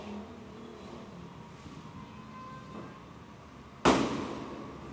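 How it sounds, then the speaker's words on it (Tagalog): Firecrackers set off outdoors ahead of New Year: one sharp, loud bang breaks through a low steady background hum and trails off quickly. "Paputok na sila guys."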